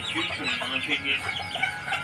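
Chicks cheep continuously in high, overlapping peeps, with a few lower clucks from hens nearby.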